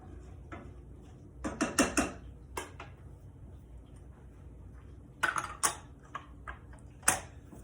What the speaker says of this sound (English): we are going to stir this around and let this get warm and let that butter melt